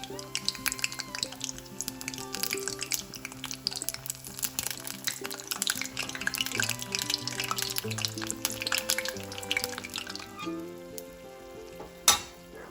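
A batch of neyyappam, sweet rice fritters, bubbles and sizzles in hot oil, a busy crackling under steady background music, ending with one sharp clack.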